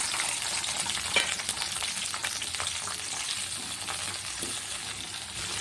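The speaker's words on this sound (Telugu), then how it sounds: "ఆయిల్ హీట్ అయిన తర్వాత ఒక మూడు పెద్ద టమోటాలు ఇలా ముక్కలుగా కట్ చేసుకొని ఇందులో వేసుకుంటున్నాను" Three large chopped tomatoes hit hot oil in a pan for a gongura leaf chutney, producing a steady, close, loud sizzle and crackle with occasional clinks of a utensil, continuing without talk.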